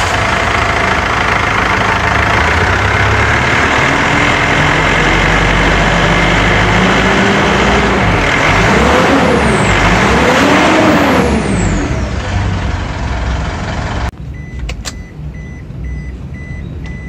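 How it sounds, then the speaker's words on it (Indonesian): Mitsubishi Pajero SUV engine running at idle under an open hood, a loud steady diesel-like drone with a few revving swells toward the end before the sound drops off. "Nah ini sekarang kita dengerin ya suara mesinnya ya."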